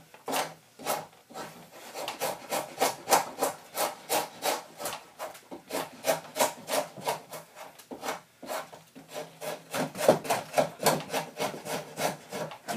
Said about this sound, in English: I'm just shaving it down so it would fit in the hole that I made on the other part of my chair